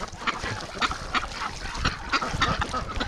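A flock of large white Pekin ducks calling in a steady run of overlapping honking quacks, close and loud, with no talk.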